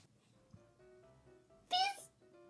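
A house cat meows once from behind the camera, a short, bright, fairly close call that stands out against a quiet room with faint background tones.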